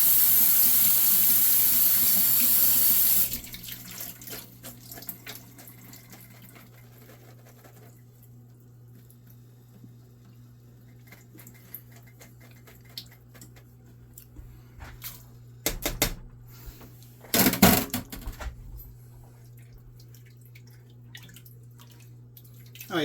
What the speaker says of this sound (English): And I'm going to rinse those off with a little cold water.